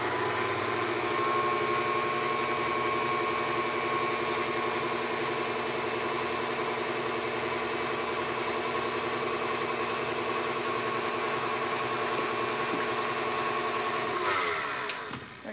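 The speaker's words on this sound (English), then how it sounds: "start mixing your mixer" An electric stand mixer whips egg whites for Italian macarons, giving a continuous, even motor whir throughout that cuts off at the very end.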